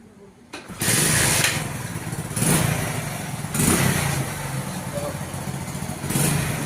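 A vehicle engine with a leaking silencer is started and then revved in repeated loud bursts that swell and drop back to a rough idle, with a voice talking nearby.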